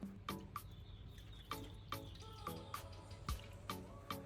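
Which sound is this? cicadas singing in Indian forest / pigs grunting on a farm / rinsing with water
rinsing with water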